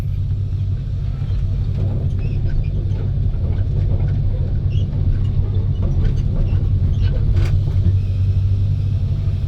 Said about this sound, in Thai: แล้วก็ฟังเสียงเครื่องด้วย